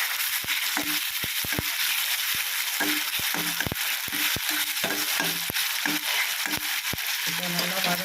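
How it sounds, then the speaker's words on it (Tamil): Salted tomatoes sauté in a pan, a loud continuous sizzle with frequent quick clicks and scrapes of the stirring spoon, up close, with brief voice traces near the end. "உப்பு போட்டோம்னா சீக்கிரம் நல்லா வதங்கிடும் தக்காளி"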